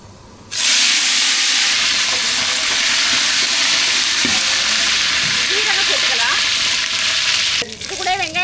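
Mustard seeds and curry leaves sizzle and crackle steadily in hot oil for a Tamil brinjal kootu and sambar rice, a loud, dense frying hiss that starts abruptly and carries on with light stirring scrapes, with no talking.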